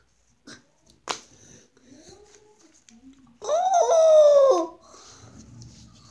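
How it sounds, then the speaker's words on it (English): A puppy lets out one drawn-out whining yelp close up, after a few quiet clicks and soft rustles, then the room falls back to a faint background. "Aw, look at my cute puppy."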